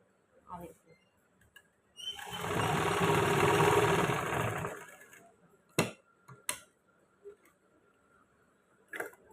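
A sewing machine stitches a shirt collar seam in one steady, whirring run of a few seconds, followed by scattered light clicks and knocks of handling, fairly close and moderately quiet.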